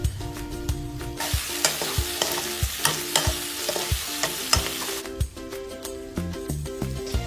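Squash cooking in a pot for ginataang kalabasa is stirred with a spoon, giving a rhythmic series of clear scraping knocks over a soft bubbling simmer, close and without speech.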